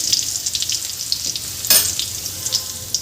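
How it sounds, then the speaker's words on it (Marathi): Crushed garlic frying in hot oil with cumin and mustard seeds, a steady crackling sizzle throughout with a brief louder burst of spatter midway, no talking. "लसूण 2 मिनिटं छान परतून घ्यायचं"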